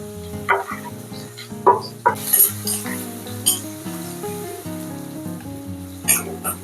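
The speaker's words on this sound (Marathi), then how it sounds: "कांदा थोडा ब्राउनिश होऊ दे मीडियम फ्लेम वरती" Onion frying in a pan over a medium flame, a soft sizzle with a few clinks of a utensil, largely under steady background music.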